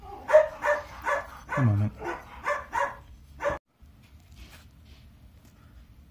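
Several dogs at a house bark in a rapid, fairly close run of yaps and woofs, then fall quiet, leaving a faint low background hum.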